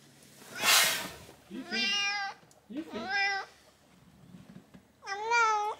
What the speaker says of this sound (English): One cat coming to say hello.